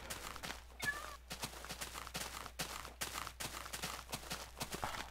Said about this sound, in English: So many footstep noises behind me.